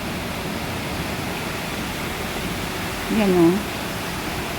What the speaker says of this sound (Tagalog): Pag malakas lang ang ulan, saka magbabaha dito.